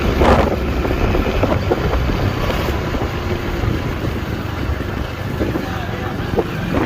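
Kick-started motorcycle being ridden on a village road in Dadyal, Azad Kashmir, heavy wind buffeting the microphone over a steady engine drone for several seconds.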